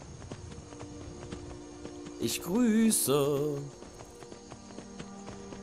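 Horse hooves clip-clop steadily at a walk in Skyrim on PS3, light and regular through the clip. A short voice greeting cuts in midway.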